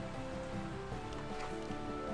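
Rain falls steadily in the video game Slime Rancher 2, a soft continuous patter and hiss mixed with a low game music drone, faint and even throughout.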